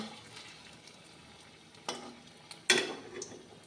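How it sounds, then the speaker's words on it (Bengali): Food frying in hot oil in a wok: a soft, faint sizzle with a few sharp spits and clatters near the end. "কড়াই তেলের মধ্যে ছেড়ে দিয়েছি এই দেখুন কি সুন্দর করে ভাজি হচ্ছে"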